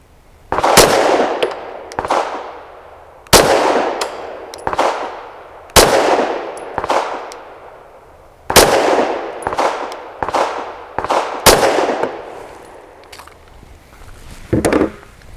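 Walther PDP pistol fired at 21 feet: about a dozen sharp, loud shots in quick pairs and short strings, each with a ringing echo that fades before the next, and no voices.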